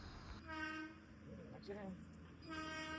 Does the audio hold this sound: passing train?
yes